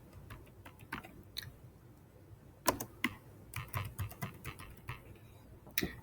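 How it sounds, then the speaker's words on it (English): Keystrokes on a computer keyboard while entering chart titles in a spreadsheet, a quiet, irregular run of light clicks with brief pauses and a denser cluster toward the end, no talking. "And as I type that in"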